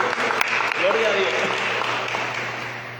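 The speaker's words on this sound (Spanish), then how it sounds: "Denle un aplauso al Señor." Church congregation clapping together in a sustained, dense burst of applause at close range, with voices mixed into the clapping throughout.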